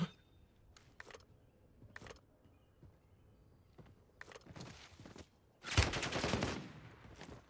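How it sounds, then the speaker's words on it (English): Gunfire in a battle royale video game match: scattered single shots and short bursts at regular intervals, then a louder, denser burst of fire near the end, with no talk. "Watch him just get gunned by a bot, bro."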